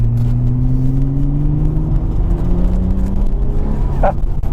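A B5 Audi RS4 Clubsport engine accelerating hard, its rising drone climbing steadily in pitch, loud and close, with a brief higher whine near the end.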